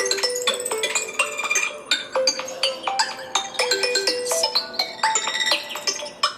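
New Apple iOS 17 ringtone playing loudly and alone, a bright chiming melody of quick repeated bell-like notes in a steady pattern.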